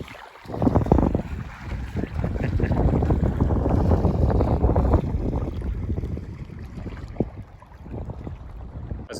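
A small dinghy pushes out onto a tidal estuary, with a steady broad rumble of water and wind buffeting the microphone, loud and close for several seconds before easing off.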